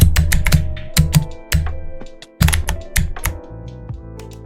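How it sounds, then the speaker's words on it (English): Someone types on a computer keyboard with clear, close, sharp keystrokes in quick bursts, several short runs of clacks separated by brief pauses. "Listen to keyboard he has also."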